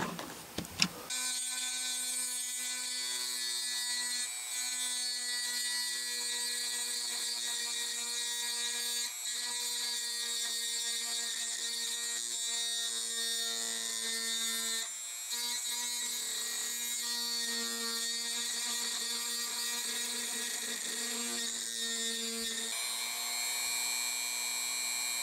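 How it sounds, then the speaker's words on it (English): A Dremel rotary tool cuts small grooves into an N scale Kato SD40-2 locomotive shell, producing a steady, high, whining buzz that continues almost unbroken, with only brief dips. "I just got to use the Dremel to dig little grooves for the wires to fit in"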